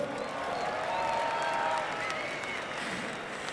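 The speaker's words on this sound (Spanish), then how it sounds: "fuertes aplausos para Acertijo, por favor" A live crowd at an FMS International freestyle rap battle event applauds and cheers a freestyle rapper, a steady dense wash of clapping and crowd noise lasting the whole moment at even loudness.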